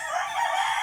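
Breeding chickens give a short, bright crowing call close by, a single brief burst with no talk over it.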